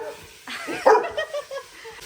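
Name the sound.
dog barking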